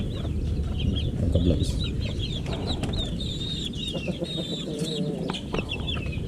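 Japanese Dumpo Shamo chickens clucking in their coop, with a steady run of short, busy clucks and calls close by over a constant low background hum.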